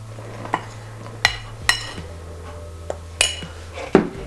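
Flour is worked into crepe batter in a bowl, heard as a handful of sharp utensil knocks and clinks against the bowl spaced about half a second apart, with quiet gaps between.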